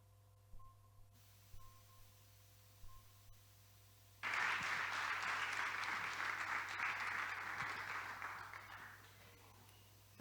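Quiet room with a few small taps, then a burst of audience applause at a Christian church youth gathering that swells loudly and slowly fades after several seconds.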